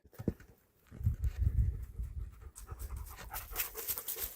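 A dog pants in the forest, rapid heavy breaths close by, followed by brighter rustling and scuffing noise as it moves.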